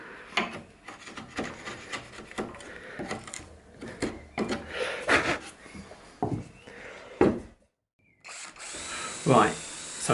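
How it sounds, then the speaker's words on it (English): Bursts of a power drill drilling and driving screws into wood, with short whirring runs and scraping handling noises between them, close by, then a brief pause. "so I'm drilling and screwing"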